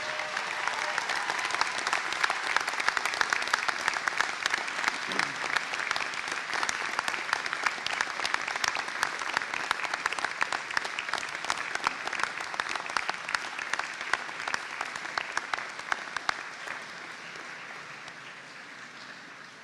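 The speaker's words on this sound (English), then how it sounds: "give them an enormous round of applause" Graduates at a university graduation ceremony stand and applaud their families, sustained dense clapping from a large crowd that holds steady for close to twenty seconds before easing slightly.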